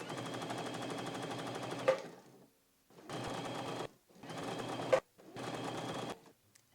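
A sewing machine stitches the hem of a fabric hair wrap in four steady runs of rapid, close mechanical chatter, separated by short pauses, with small clicks as each run stops.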